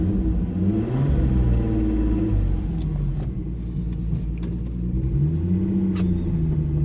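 A VR6 turbo car engine runs and drives, giving a loud, close, continuous low rumble whose pitch rises and falls with gentle revving, with no one speaking.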